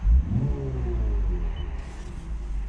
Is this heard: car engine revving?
yes